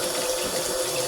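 Kitchen tap water runs in a steady, full hiss while a red pepper is rinsed under it, continuous and close with no voices.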